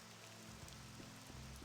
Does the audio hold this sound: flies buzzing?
no